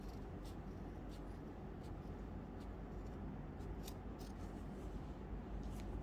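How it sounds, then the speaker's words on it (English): Scissors cut fabric along a skirt seam, faint repeated snips and rubbing over a constant low background rumble. "now I cut along the seam"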